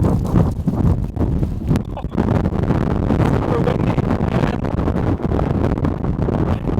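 Strong wind roars and buffets the microphone in a constant loud rush, with brief gusty dips, among the ruins of the ancient Hittite capital Hattusa.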